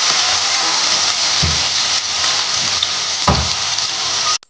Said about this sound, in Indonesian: panaskan minyak goreng secukupnya, kemudian goreng terlebih dahulu kentangnya hingga matang